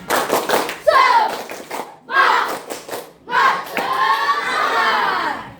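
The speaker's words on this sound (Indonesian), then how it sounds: "Yuk, kita tepuk semangat dulu ya, biar lebih semangat" A school class of children claps along to a 'tepuk semangat' cheer, loud shouted chanting in three bursts mixed with hand claps and thumps.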